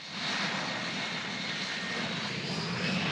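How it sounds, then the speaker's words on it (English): A steady, loud jet engine roar from an F-35 fighter at takeoff, broad and continuous across the whole stretch with no voices over it. "every takeoff in the F-35 is a reminder of the power and precision behind the world's most advanced fighter jet"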